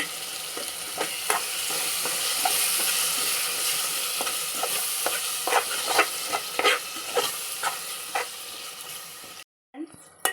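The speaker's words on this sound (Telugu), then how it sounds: "ఇప్పుడు అంతా బాగా నూనెలోనే ఫ్రై అవనివ్వాలండి" Chicken sherva masala frying in oil, a close crackling sizzle with repeated scraping strokes of stirring, ending in a brief silence near the end before a faint sound returns.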